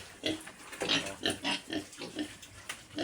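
Farm pigs grunt and oink in a rapid, uneven series of short snorts, close by and moderately loud, with no talking over them.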